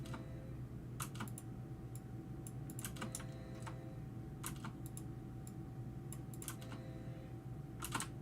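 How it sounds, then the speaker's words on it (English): Computer keyboard keys clicking in quick, irregular clusters of sharp taps, close and fairly quiet over a steady low hum, with no talk. "that keyboard click comes real quick after the line there"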